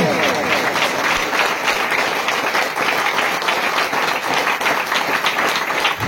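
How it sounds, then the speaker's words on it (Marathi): A church congregation breaks into vigorous applause, dense and energetic clapping with scattered voices and cheers mixed in, loud and sustained throughout. "जोरदार टाळ्या आहे"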